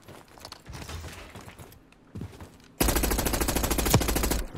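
Rapid automatic gunfire in the Area 99 shooter video game, loud and dense after quieter mixed game sounds, with a brief lull before the sustained burst.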